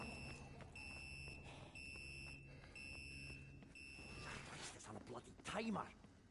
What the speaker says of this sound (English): Buzzers are not good.